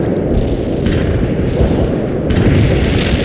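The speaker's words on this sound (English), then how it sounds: "Artillery strike success." A video game artillery barrage strikes its target as a dense, rumbling roar of heavy booms. The blasts run together continuously, with a few sharper bursts rising out of the din.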